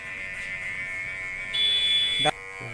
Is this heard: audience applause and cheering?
no